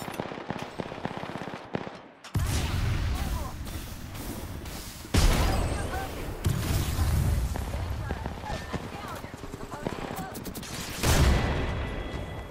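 Rapid automatic gunfire in an Apex Legends match, loud and close, with sustained bursts broken by brief pauses and heavy impacts, over game voice callouts.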